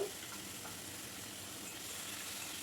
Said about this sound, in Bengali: এবার এই চালটাকে একটু ভেজে নেব যে গোবিন্দভোগ চালটা আমি ধুয়ে নিয়েছি এটা আমি ভেজে নেব